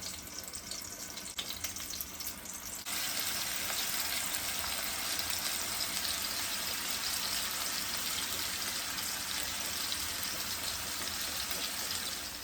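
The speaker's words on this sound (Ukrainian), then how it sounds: "Тепер пательня трошки підігрілася вже, гаряча. Ставимо наші кручаники." Meat rolls sizzle steadily in a hot frying pan, a constant crackling hiss that grows fuller after a few seconds and continues evenly to the end.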